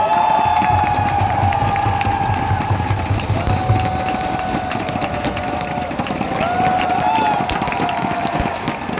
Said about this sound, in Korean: 이럴 때 더 큰 격려의 박수, 응원의 박수!